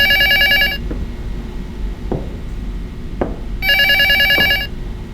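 A cell phone rings at night in two bursts of bright electronic ringtone, with silence between them broken by a few sharp knocks, all close by with no talk.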